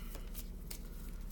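Tarot cards are shuffled by hand in a quick burst, several soft papery riffles close up.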